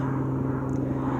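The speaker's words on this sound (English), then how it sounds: "you might hear a freaking helicopter right now" A helicopter passes overhead with a constant low droning hum and a steady engine tone, distant but persistent, with no speech.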